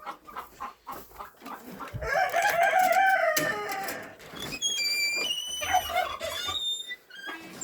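A brooding hen in a poultry setting with chicks clucks and lets out loud, harsh screeches, sustained and close, with other chickens' calls and high chirping of chicks around it.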